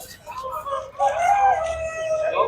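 A chicken at a poultry market gives a short drawn-out crowing call, close and fairly loud, with a voice nearby and market background.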